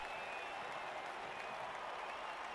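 Cheering crowd of fans in a Blood Bowl-style fantasy football video game, a steady wash of applause and cheers that holds loud and even throughout.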